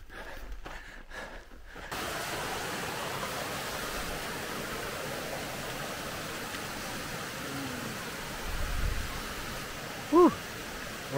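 Merton Creek in Sequoia National Park flows as a steady, full rush of water from about two seconds in, with a short bird chirp near the end.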